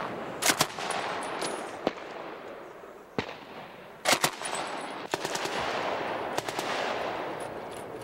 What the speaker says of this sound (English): The men are only firing blanks, but their surprise has worked.